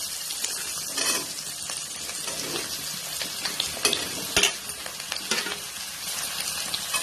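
Bottle gourd pieces stirred into fried onions in a hot pan, a steady close sizzle with scraping spatula strokes and small clatters throughout, no voices.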